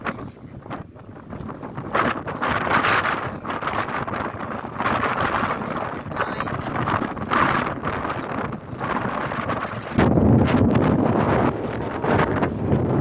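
Wind buffets the microphone in loud, rumbling gusts throughout, with a brief spoken word in passing.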